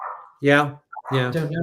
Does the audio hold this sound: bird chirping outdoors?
no